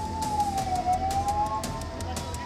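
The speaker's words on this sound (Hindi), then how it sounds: "वहीं एक मरीज को ले जा रही ये एम्बुलेंस सिंघू बॉर्डर पर फंस गई।" An ambulance siren stuck in traffic at the sealed Singhu border sounds steadily, a continuous wailing tone that rises and falls slowly over steady crowd and traffic noise.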